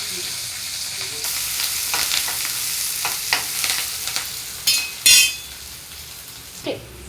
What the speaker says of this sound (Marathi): आता कांदा टाकते, कढीपत्ता पण टाकते.